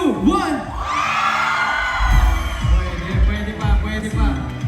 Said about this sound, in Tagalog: pwede mo ba rin sa sigawan dyan in 3, 2, 1